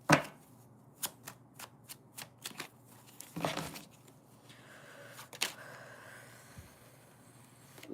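Tarot cards being shuffled by hand produce a quick series of crisp, close riffles and flicks, with a few louder snaps between quieter stretches.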